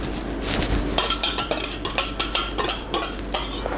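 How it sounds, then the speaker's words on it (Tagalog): A utensil clinks rhythmically against a bowl while stirring banana cake batter of mashed bananas, eggs, sugar, cinnamon, vanilla and melted butter, a quick run of sharp taps and scrapes. "So, haluin lang natin to hanggang maging smooth at well incorporated ang ating ingredients."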